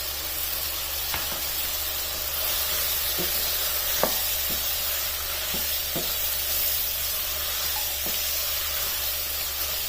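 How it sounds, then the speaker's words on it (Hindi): Chopped carrot and potato cooking in a pan, a steady loud sizzle with occasional utensil scrapes and taps scattered throughout. "अब इस गाजर को और आलू को इसमें 2 से 3 मिनट तक इस तरह पकने देना है ताकि ये गल जाए थोड़ा सा।"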